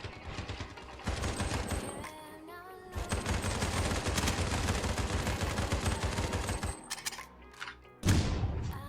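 Rapid automatic gunfire from the Turkish first-person shooter Sabotaj, loud dense bursts rattling almost continuously with brief gaps, a pause near the end before a final heavy volley.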